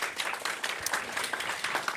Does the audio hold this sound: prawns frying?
no